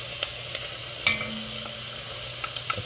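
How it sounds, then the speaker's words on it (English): Onions and garlic stirred in a pan sizzle steadily at close range, with a few light scrapes and taps of the utensil against the pan. "I'm going to take this lid off and stir this around some more"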